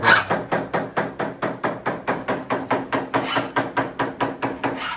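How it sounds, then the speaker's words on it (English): A hammer strikes a handsaw plate steadily to straighten it during saw sharpening, about four sharp metallic blows per second in an even rhythm, close and loud. "here we are on day 2, and we're already into hammersmithing"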